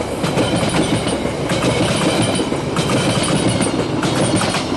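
A KiwiRail train rumbles steadily past at close range, its wheels clattering in a loud, continuous roar with rhythmic clicks over the rails.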